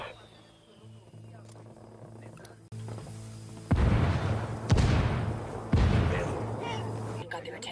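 Indirect artillery fire strikes in Ghost Recon Wildlands, a series of heavy booming impacts and rumbling blasts, roughly three loud hits spaced about a second apart over a low engine drone.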